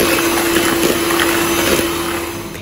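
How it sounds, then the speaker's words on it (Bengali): An electric hand mixer beats butter and plain sugar for a pound cake, a steady loud motor whir with a constant hum that holds without pause for the whole stretch. "একটু একটু করে বিট করে নেব।"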